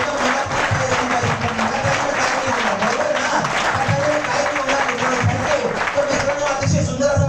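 An audience at a speech event in Latur applauds continuously, a dense, loud wash of many hands clapping throughout, with a voice talking faintly underneath.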